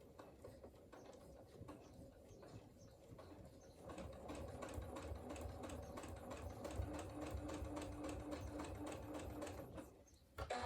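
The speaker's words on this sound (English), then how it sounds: "keep turning it around your arm of your sewing machine" A sewing machine stitches a workshop bag in a steady rapid mechanical chatter, starting quieter and growing louder and continuous before stopping abruptly near the end.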